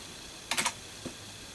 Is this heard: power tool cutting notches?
no